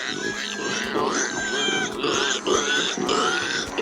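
Cartoon pigs in an animated fantasy series grunt and oink in a steady overlapping chorus, close and fairly loud, with a voice talking over them.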